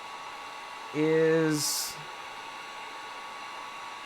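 A heat gun set to high blows a steady, even hiss throughout, while a voice briefly speaks a word over it partway through.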